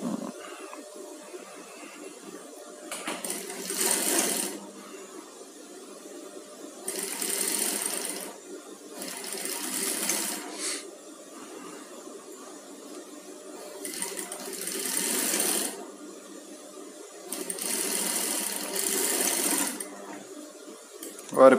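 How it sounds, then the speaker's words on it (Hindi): Sewing machine stitching a koti garment, running in several short bursts of rapid mechanical whirring separated by quiet pauses, close and moderately loud. "ये एकदम हल्की थोड़ी सी सिलाई लेनी है"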